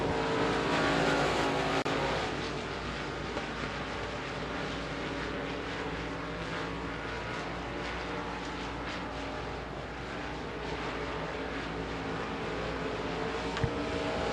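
USA Limited Modified race cars roar around Devils Bowl Speedway, a steady loud wash of engine noise from several cars passing and circling continuously, heavier at the start and then holding level.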